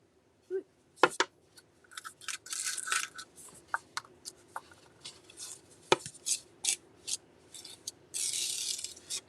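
A gritty clay mixture is scraped out of a cup and spread across a wooden board, producing soft, irregular rasping strokes and scratchy bursts. The sounds are close, fairly quiet and uneven, with brief pauses between the scrapes.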